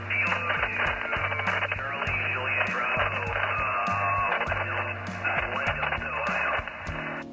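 Amateur radio receiver picking up a contact, with bursts of crackling static crashes over a steady band of noisy signal and faint voice-like tones throughout.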